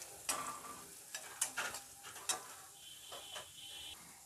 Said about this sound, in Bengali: জোয়ানটা দিয়ে একটু নেড়ে নিচ্ছি।